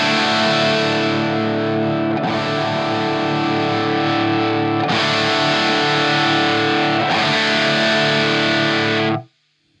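Electric guitar through a Vox MV50 Rock amp set to high gain plays four long, loud, sustained distorted chords, each ringing for a couple of seconds before the next strike, ending with an abrupt cutoff into silence.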